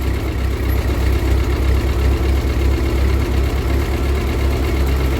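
A 1952 Ford 8N tractor engine chugs along in first gear, a loud, close, steady low rumble with rapid even firing pulses and no talk.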